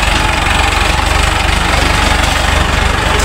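A Mahindra Arjun 555 DI tractor engine idles in mud, a loud, close, steady diesel throb with even rapid pulsing and no talk over it.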